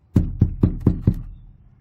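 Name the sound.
tapping on the inside of a foam board without PMF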